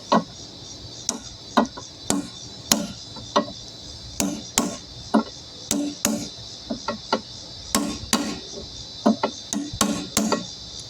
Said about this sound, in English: Now, hammer and flat tip to put the locks back down